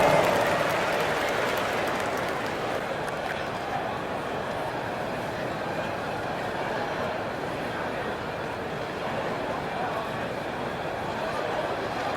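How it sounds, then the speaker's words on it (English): Virtual arena crowd in the NBA 2K25 basketball game, a Detroit Pistons versus Memphis Grizzlies simulation, keeps up broad steady applause and cheering for the full stretch, a dense even roar that starts slightly louder and then holds level. "Give yourself a round of applause."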